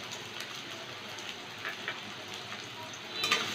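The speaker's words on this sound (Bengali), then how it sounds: "একটু ভেজে নেব পেঁয়াজটা।" Chopped onions and green chillies sizzle and spit in hot oil in a pan, a steady soft hiss with scattered crackles throughout, fairly quiet.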